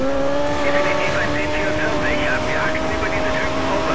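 A Lexus races in Need for Speed Most Wanted, its engine holding a loud, sustained steady tone with a faint wavering higher whine, while someone speaks over it.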